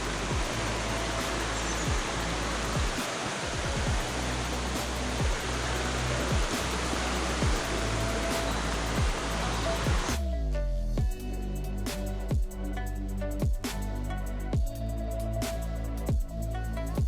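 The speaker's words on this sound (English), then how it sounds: "So here we are at the Mallyan Spout waterfall." Mallyan Spout waterfall at Goathland, a loud continuous roar of falling water on wet rocks, broadband and steady throughout with no voices over it.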